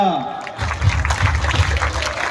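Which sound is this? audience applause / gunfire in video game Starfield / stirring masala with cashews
audience applause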